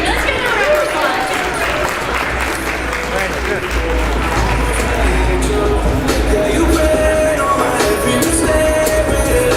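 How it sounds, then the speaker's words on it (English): Sustained applause from an audience at a women's basketball game fills the clip, a dense steady wash of clapping with crowd noise mixed in. "Let's give them a round of applause"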